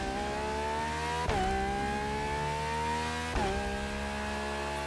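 A stock British car in the racing game Motorfest revs hard over and over, its engine note climbing steadily and then dropping sharply at each gear change, loud and close with no talking.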